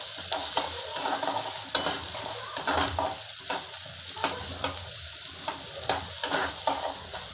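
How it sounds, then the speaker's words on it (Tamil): Onions sautéing in a pan for pepper chicken gravy, a steady close sizzle broken by repeated scraping stirs of a utensil at an irregular rhythm, with no voices. "வெங்காயம் கொஞ்சம் வதங்கினதுக்கப்புறம் நல்லா கொஞ்சம் வதக்கிட்டு"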